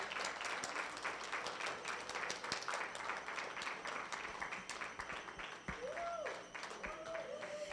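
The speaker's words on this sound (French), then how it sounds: "Et pendant qu'elles avancent, nous acclamons pour elles." An audience claps at a women's celebration event in Dallas, dense and continuous applause with some voices mixed in, trailing off near the end.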